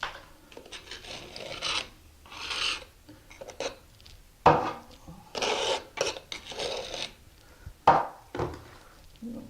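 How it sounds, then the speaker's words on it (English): Screwdriver scraped along a shower wall tile joint to clear it out, repeated close raspy strokes in uneven bursts with short pauses between, no talk. "Then to get that out, you can take your screwdriver and just run it down it."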